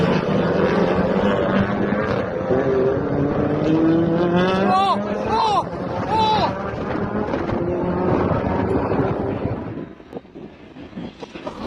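Motorcycles racing on a motocross track with riders going down: steady, loud engine whine with revving pitch sweeps throughout, an excited commentator talking over it, and the noise dropping away near the end.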